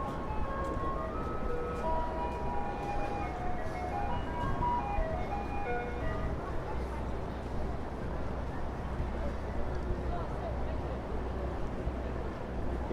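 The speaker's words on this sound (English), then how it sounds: "Here we've got the ice cream trucks playing in Jingle." An ice cream truck plays its tinkling jingle on a New York street in Chelsea, a faint melody drifting over steady city traffic hum, fading out partway through.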